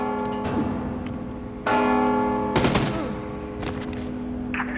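A bell clangs repeatedly in the stealth video game Mark of the Ninja Remastered, rich sustained ringing tones with overlapping strikes amid bursts of clattering noise, no speech.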